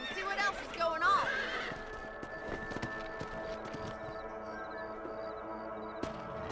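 A horse whinnies loudly at the start in Red Dead Redemption, followed by hoofbeats and ambient game sounds with a low steady hum beneath.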